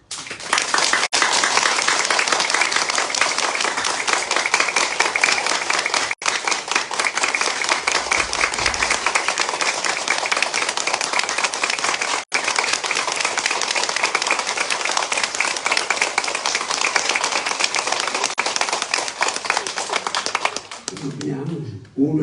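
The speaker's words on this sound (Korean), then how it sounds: "다 일어서서 일단 손을 벌리고 손뼉을 치는데" An audience at a church gathering in London claps and applauds in a dense, steady roar of hand claps that runs for over twenty seconds, loud and close, with voices mixed in.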